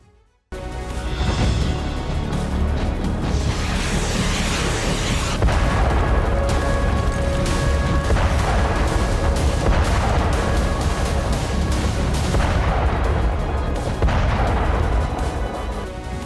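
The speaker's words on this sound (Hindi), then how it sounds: "नभ से बारूदी विस्फोट" Loud, continuous rumbling blasts of explosions and artillery fire roll on without a break, dense and booming, with heavier surges scattered throughout.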